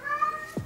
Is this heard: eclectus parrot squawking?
no